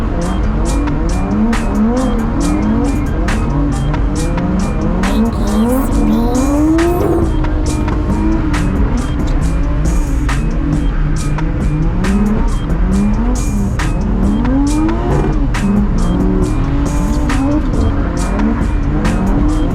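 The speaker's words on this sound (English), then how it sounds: "Me and Kevin are going to try to do some figure eights like these guys are doing right now." Cars drift figure eights at a summer 2022 drift day, with engines revving in rising and falling sweeps and tires squealing repeatedly and loudly, while a voice talks over the constant noise.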